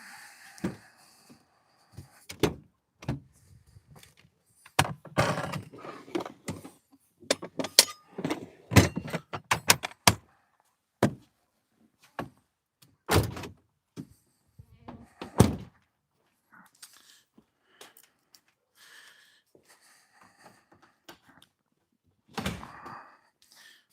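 Metal tools clatter, thunk and scrape as someone rummages through a pry bar drawer in a work truck for a roofing snake, giving irregular close knocks and bangs that come in clusters.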